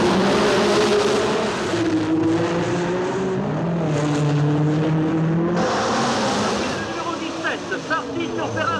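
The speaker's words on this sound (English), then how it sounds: "Now it's Sarti in the red Ferrari, number 17, leading." Formula One race cars screaming through the streets of Monaco in the 1960s film Grand Prix, engines droning and shifting pitch as they pass, with a race commentator talking over the roar.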